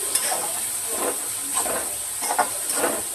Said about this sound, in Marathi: आता हा कांदा ना छान असा भाजून घेत आहे